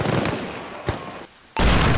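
Mortar fire in the Arma Reforger military shooter game: dull distant booms and a sharp crack amid battlefield noise, with a brief lull before a loud blast swells back in.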